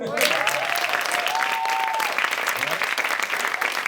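A studio audience at a French comedy roast bursts into steady, loud applause that holds for several seconds, with a voice speaking briefly over the clapping.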